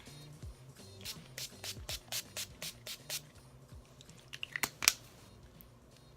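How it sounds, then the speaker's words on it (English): A rapid series of short bursts of NYX Matte Finish makeup setting spray, about a dozen quick spritzes in an uneven rhythm, close by with no talking. "I'm going in with the NYX Matte Finish finishing spray"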